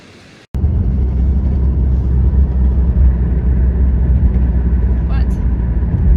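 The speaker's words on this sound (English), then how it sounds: "All right, driving around some more." A car cruises along a wilderness road near Mount Kineo, its engine and tire rumble filling the cabin as a loud, steady drone after a brief quieter moment at the start.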